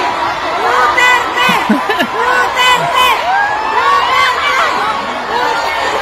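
A large outdoor crowd in Singapore shouts and chants "Duterte" through a megaphone in rhythmic bursts, loud and dense, with overlapping voices and cheering throughout.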